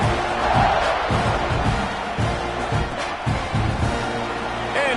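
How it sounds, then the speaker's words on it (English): A football stadium crowd at an Auburn game roars and cheers ahead of the kickoff, a dense, loud wash of voices with rhythmic thumping pulses running through it. "They're set to kick it off, and this crowd now ready to get behind them."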